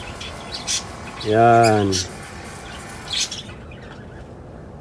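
Lovebird chicks in a nest box give a short burst of chirping calls, with faint chirps before and after and a person speaking quietly nearby.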